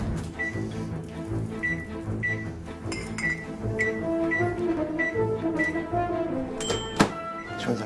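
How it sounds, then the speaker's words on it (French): A microwave oven in a busy restaurant kitchen, with a series of short, evenly spaced electronic beeps over a steady hum, clatter and background bustle, ending with a sharper click. "Je vais me servir du micro-ondes."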